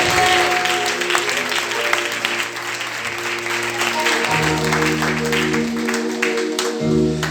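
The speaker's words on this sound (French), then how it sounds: "Est-ce qu'on peut acclamer Jésus pour ça?" A church congregation applauds in a steady, dense wash of clapping at a French-language prophetic service, sustained throughout while organ or keyboard chords hold underneath and shift partway through.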